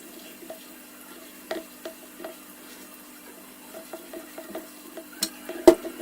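Filling for cheesy chikpo rolls, made with finely chopped green chillies, coriander, mint, black pepper and salt, being stirred and mixed in a bowl: soft scraping with scattered light clicks and taps at an uneven pace, close and quiet, no talking.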